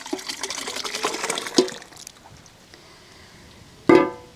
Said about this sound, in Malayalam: ഗ്രേവി ഒരു പാത്രത്തിലേക്ക് മാറ്റാം